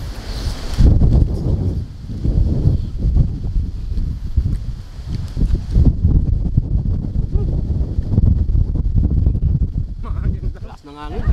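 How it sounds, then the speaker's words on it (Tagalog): Strong afternoon wind sweeps across open farm fields during outdoor cooking, a steady loud buffeting rumble against the microphone that gusts and eases throughout. "Lakas ng hangin."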